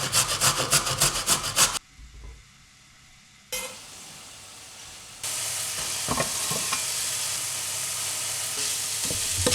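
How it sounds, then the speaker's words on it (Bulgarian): Half a large carrot is rubbed across a grater in quick, rhythmic rasping strokes, loud and close, followed by quieter scraping and steady background noise. "Ще настържим половин голям морков на ренда."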